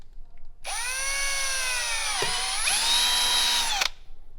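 A power drill bores through the secondary panel of a Harley-Davidson motorcycle dash, a steady close whine lasting about three seconds that dips briefly as the bit breaks through, then rises in pitch before stopping.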